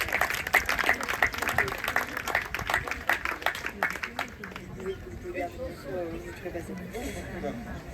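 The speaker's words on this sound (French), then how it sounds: "je pense qu'on peut tous l'applaudir pour le quiz" An audience claps after a quiz at a talk about forests, with crisp, fairly close applause for about four seconds that fades into chatter and a voice speaking.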